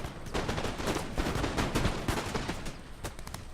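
Musket volley in Napoleon Total War, a dense crackle of many near-simultaneous shots rolling on for several seconds, loud and close, with no one talking.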